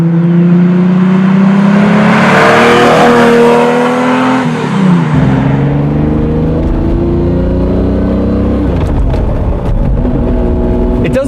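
Lamborghini Diablo engine roaring loud and close from inside the car while driving, pitch climbing under throttle, dropping at a gear change, then building again with a rough, buzzing edge.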